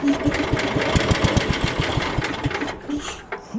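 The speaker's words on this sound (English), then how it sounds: "we're going to start the engine up here." A welder generator's small engine, started with a little choke, chugs and idles with rapid, uneven knocking pulses, loud and close, settling slightly toward the end.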